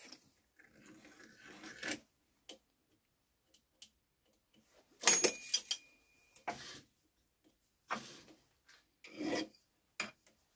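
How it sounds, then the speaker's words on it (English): Hand filing to deburr a freshly machined metal part for a 5-inch gauge model diesel locomotive: several short rasping strokes in separate bursts, close and fairly quiet, with pauses between them. "We'll just take the burr off."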